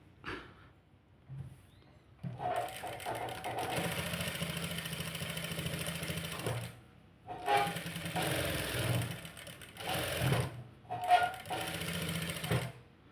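A sewing machine stitches a U-shape princess cut blouse in several bursts of steady whirring, each a few seconds long, with short pauses between them and a little quiet talk at the start.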